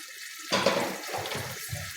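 A kitchen tap starts running partway through, a sudden close hiss of water that continues steadily for the rest of the moment, with no voices.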